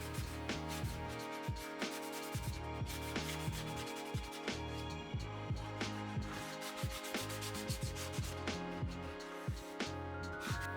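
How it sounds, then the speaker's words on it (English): Rhythmic back-and-forth scraping of sandpaper on wood, strokes repeating at a brisk, even pace, close up and without speech. "With a little bit of sanding and a little bit of smoothing up the edges"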